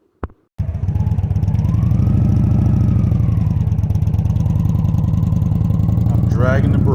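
A motorcycle pulls away at about 1-2 mph with the rear brake dragging and throttle held steady, its engine running loud and close in an even, continuous drone after a brief click and pause at the start.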